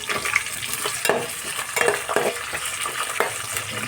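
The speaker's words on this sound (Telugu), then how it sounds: "ఈ ఆనియన్ మనకి రెడ్గా వచ్చేంత వరకు మనము వేపుకోవాలా" Onions fry in a pan with a continuous crackling sizzle, while a spoon scrapes and stirs them in regular strokes, close up and alone.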